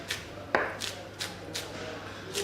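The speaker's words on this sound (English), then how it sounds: "just chop that up nice and fine where you can" A kitchen knife chops vegetables on a cutting board for student-style fishcakes, about six separate, crisp knocks at an unhurried pace, close by and fairly quiet.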